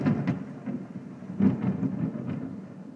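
Thunder rumbles through a steady rainstorm during a spring morning of on-and-off storms, with low rolling swells and a louder burst partway through, near and heavy beneath the constant wash of rain.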